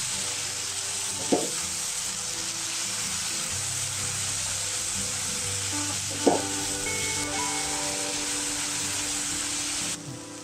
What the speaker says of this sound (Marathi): छान आपण परतून घेऊया आता